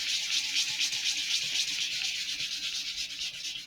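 Steady, continuous sandpaper rasp on a balsa wood model rocket fin, close and fairly loud, with a rhythmic back-and-forth rubbing texture and no talking.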